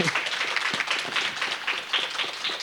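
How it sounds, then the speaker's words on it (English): An audience at an author talk with Trung Le Nguyen claps in a lively round of applause, close and busy, with individual hand claps audible in the mix and no speech over it. "Please join me in giving a big round of applause to Trung Le Nguyen for writing this book for us."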